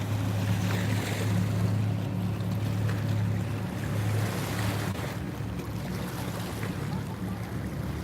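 Waves washing onto the Niagara River shore at sunset, a steady rolling wash with gusty wind noise, close and continuous.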